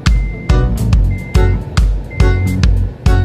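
A Damri bus near the new town square in Pangandaran, heard up close as a steady engine rumble broken by a loud rhythmic run of bursts and short beeping tones, roughly every half second.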